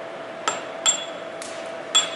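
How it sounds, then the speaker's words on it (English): A chisel chips at rock stuck on a robot with a few sharp, separate metallic taps and clinks spaced irregularly, close by against a low steady hum, with no talking. "I'm gonna have to go in there with a chisel."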